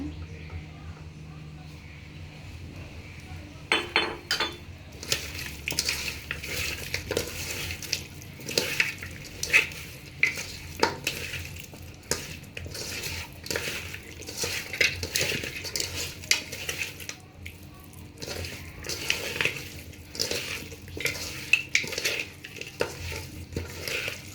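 Beef curry made with Eid sacrificial meat sizzling and bubbling in oil in a pot, with steady scraping and stirring clatter of a metal spoon against the pot throughout, fairly close and moderately loud.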